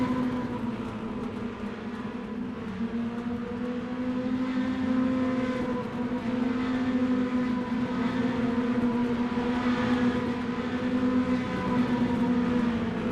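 Mini stock race cars in a sim racing game at Linear National Speedway give a continuous, steady engine drone with a sustained pitch that stays loud and unbroken the whole time.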